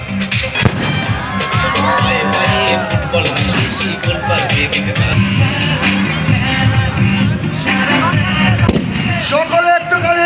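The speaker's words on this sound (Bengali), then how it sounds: "আতশবাজি" Fireworks display at a football association ground during a local tournament final, with continuous crackling bursts and pops over a loud crowd, people talking and calling out throughout.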